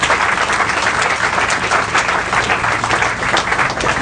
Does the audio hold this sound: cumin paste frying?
no